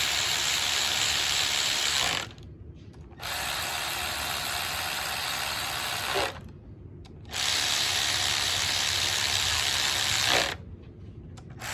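A hand ratchet snugs down engine rocker rail bolts on an LS-series V8 (L83/L86/Gen 4) in a shop, giving three sustained bursts of rapid, loud clicking separated by brief pauses.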